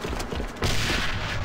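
Gunfire in the shooter AVA (Alliance of Valiant Arms) during a competitive esports match: a burst of muffled shots, then a sharp, louder volley about midway. The shots sound dense and close, with no voices over them.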